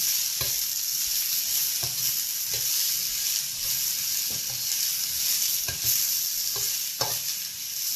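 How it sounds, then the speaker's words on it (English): Chicken and vegetables stir-fry in a hot wok, a steady loud sizzle with repeated scraping strokes of the utensil every second or so. "One thing about the wok is that it cooks at very high heat, like I said, and it's portable."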